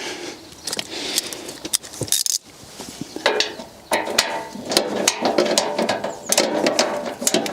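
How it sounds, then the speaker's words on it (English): A hand ratchet clicks in short, irregular bursts while bolts are tightened down on a BMW 1 Series front wing, with metallic clanks and taps between the runs of ratcheting, close and without talk. "it's just going to be a case of tightening down all the other bolts"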